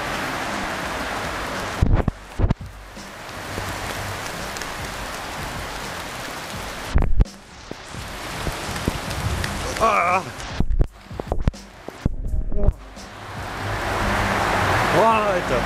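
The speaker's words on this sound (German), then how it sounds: "Es regnet einfach so krass," Heavy rain pours steadily in Australia, a dense hiss that runs through most of the stretch, broken by a few sudden knocks and gaps and some brief voice-like sounds.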